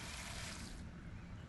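Steady hiss of water spraying from a garden sprayer onto plants in a vegetable garden, a continuous broad wash with no pauses.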